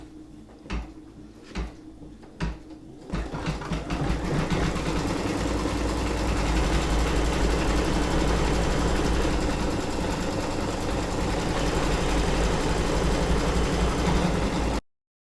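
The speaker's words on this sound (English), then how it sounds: "I'm going to put the foot down and I'm going to stitch the last step" Brother Innovis V5LE embroidery machine stitching in-the-hoop key fobs: a few clicks, then a loud, steady mechanical whir with fast needle rhythm that runs without pause for about ten seconds before cutting off abruptly.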